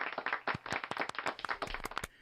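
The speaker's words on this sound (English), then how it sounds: "I like the golf clap" Sparse, polite golf-clap applause from a small group in a radio studio during a morning show, a loose patter of separate claps for about two seconds.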